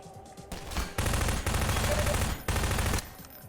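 Bursts of automatic gunfire in the video game DeceptionVille, loud sustained volleys with brief pauses between, over low rumble and game background.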